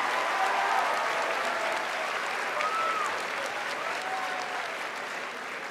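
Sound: students applauding themselves

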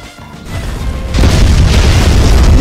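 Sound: Flame Wave Cannon blast hitting a wall in The Strongest Battlegrounds video game

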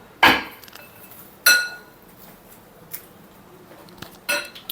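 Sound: mixing lemon rice with lemon juice and salt in a vessel

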